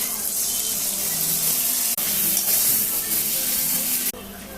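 Steady, loud sizzling of food frying in a pan as poppy seed paste is added, a continuous hiss throughout with two brief breaks.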